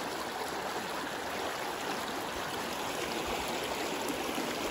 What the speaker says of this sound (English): We in the forest and little creek.